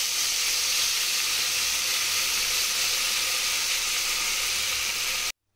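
Masala paste sizzling in hot ghee inside a pressure cooker for a mutton biryani, giving a steady, close, even hiss that runs without a break and cuts off just before the end.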